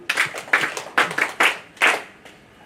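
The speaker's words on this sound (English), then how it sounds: "Let's do a big round of applause as the council to our yard." An audience at a Bougainville Power crane truck launch event claps in short, repeated bursts, about five sharp rounds of applause in quick succession, close and clear.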